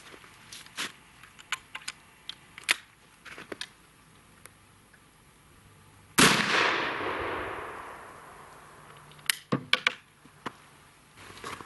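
A .223 rifle fires a 68-grain hollow point bullet: one loud, sharp report with a long decaying tail, set among scattered fainter clicks and ticks before and after, with no talking.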